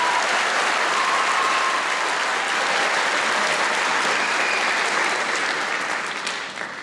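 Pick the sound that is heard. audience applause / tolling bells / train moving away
audience applause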